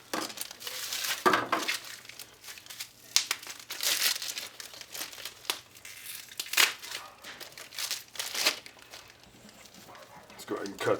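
Packaging of Boss compound bow stabilizer bars being opened, with loud crinkling and rustling of plastic and cardboard in bursts, up close, while someone talks over it.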